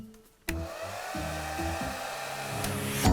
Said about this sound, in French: un sèche-cheveux que je ne reconnais pas, qui ne nous appartient pas